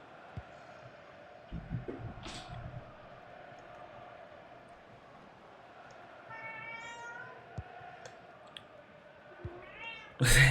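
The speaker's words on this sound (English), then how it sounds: "You'll hear the cat meowing in the background." A house cat meows a few times in the background, faint and intermittent over quiet room noise and a soft electronic hum, with a louder burst at the very end.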